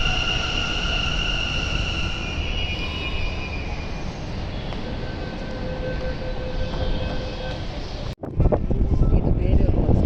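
Inside a moving metro train, a continuous rumbling roar with wind-like rush fills the carriage, steady for several seconds before a brief dip and then a louder, rougher surge.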